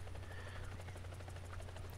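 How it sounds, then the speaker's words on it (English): A Huey helicopter flies at high altitude in a combat game, its steady rotor thump and engine drone holding level and continuous throughout. "Stay at high altitude in this helicopter versus helicopter combat."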